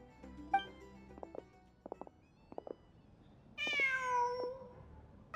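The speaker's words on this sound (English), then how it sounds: "What's the cat doing?" A cat in the Genshin Impact video game gives a series of short soft chirps followed by a clear drawn-out meow, close and alone over faint game ambience.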